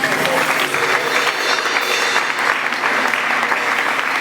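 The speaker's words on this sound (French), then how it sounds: "Est-ce qu'on peut applaudir?" A gathered audience applauds Aunt Vicky as she stands, a loud, dense, continuous wash of clapping that holds steady throughout, with a faint murmur of voices underneath.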